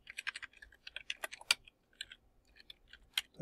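Quick, close bursts of typing on a computer keyboard, keys clicking in short irregular runs with brief pauses, alone and without talk.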